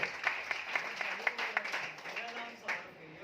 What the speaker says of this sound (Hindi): संस्कार भाई के लिए दो ताली बजाओ